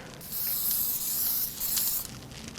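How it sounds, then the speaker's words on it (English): Close, sharp hiss of cooking spray from an aerosol can onto a pan, one long burst with a brief pause before a final spray. "now we are going to just spray a pan with some cooking spray"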